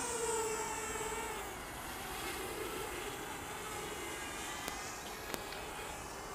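A small Fairy Air camera selfie drone lifts off, its propellers putting out a steady, thin whir that holds at moderate level, with a couple of sharp clicks partway through and no talking.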